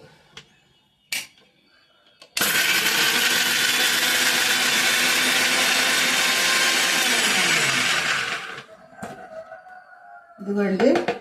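Mixer grinder whirring loudly as it grinds shallots and garlic for mint chutney, a steady close motor roar lasting several seconds before spinning down, with brief clatters and some speech around it.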